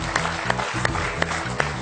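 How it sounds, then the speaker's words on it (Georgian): A studio audience at a Georgian comedy game show applauds, a short burst of dense, even clapping at moderate loudness. "აპლოდისმენტები."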